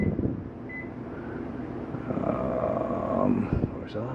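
A microwave oven hums steadily in the kitchen of a 2022 Jayco Alante 27A motorhome, a moderate droning whir with a short beep near the end.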